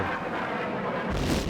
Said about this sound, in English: that was a missile